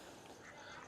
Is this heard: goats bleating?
no